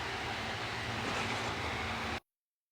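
Water runs from a faucet as a steady, loud broadband rush for about two seconds, then cuts off abruptly into silence.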